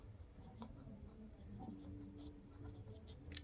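A pen or pencil scratches out an answer for a class 7 math exercise on paper, faint and close, in short strokes with brief pauses and no talking.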